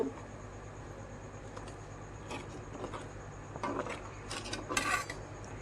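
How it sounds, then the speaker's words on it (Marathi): A utensil scrapes and clinks against a pan in irregular bursts while stirring watered-down masala for egg curry, soft at first and louder toward the end, with no talking. "मसाला आता हलवून घेते"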